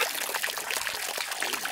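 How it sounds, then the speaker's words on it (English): Bubbling water under the surface, a steady dense burbling and trickling that runs without pause, fairly close and moderately loud, with no voices. "I heard bubbles under the water."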